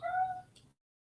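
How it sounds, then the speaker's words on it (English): A single short cat meow close by in a quiet room, a brief tonal cry lasting under a second, heard alone. "Bloody cat."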